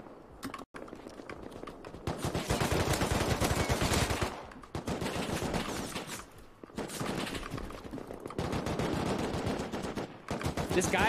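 Rapid automatic gunfire in a first-person shooter video game rattles in long dense bursts separated by short pauses, loud and close, with other game sounds mixed in.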